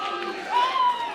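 Wrestling show crowd in Watertown, a steady roar of cheering and shouting from a packed indoor audience, swelling briefly with a sustained whoop riding over the din.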